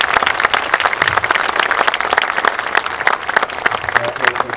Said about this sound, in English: Could we give our staff a round of applause?